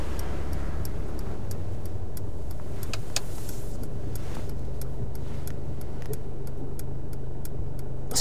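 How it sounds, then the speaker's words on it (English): A car waits on a London street, its low engine rumble steady and close, with a regular ticking like an indicator running over it the whole time. "I've got a car behind me"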